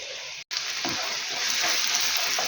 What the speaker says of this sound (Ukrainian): смажиться трошки томатна паста